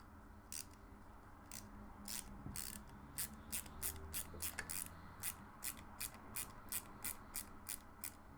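A screwdriver driving a small screw into the wheel of a Batmobile Tumbler model, a quick run of close, quiet ratcheting clicks that speed into a steady rhythm, no talking.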